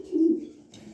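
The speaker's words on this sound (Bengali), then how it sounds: "দেখেন কবুতরগুলা" A pair of pet pigeons, a yellow hen and a red cock, give a single low, close coo lasting under a second, with no voices.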